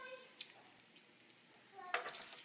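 Bacon sizzling in a pan in a home kitchen, a soft steady crackle with a few sharper pops rising above it, quiet and close.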